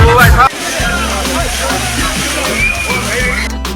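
The Courtallam (Kutralam) waterfall pours down as a steady, loud rushing wash of water, with people's voices and crowd murmur underneath.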